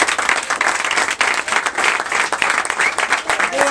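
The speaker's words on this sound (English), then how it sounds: "NPSL guys, how about a round of applause for these guys?" A crowd applauds NPSL soccer players at an autograph-signing event, steady, loud clapping that holds throughout, with voices mixed in under it.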